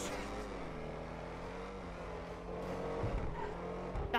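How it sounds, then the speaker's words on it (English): Ocelot XA-21 sports car engine in GTA 5, heard from first person, idling low then revving harder toward the end, a steady droning note with rising intensity near and loud, no talk. "This car sounds so nice."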